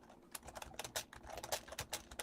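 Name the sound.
typing on a computer keyboard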